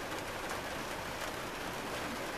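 Rain falls steadily outdoors as a soft, even hiss with no distinct drops standing out. It stays faint and unbroken throughout.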